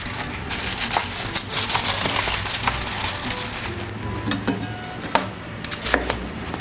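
A quartered medium onion drops into a pan with a crunchy, crackling clatter of pieces landing, steady and close, with no talking.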